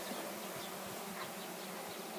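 A honeybee buzzes continuously and close by inside a beekeeper's bee-shaking box fitted with a grate, a dense, steady hum with no voices.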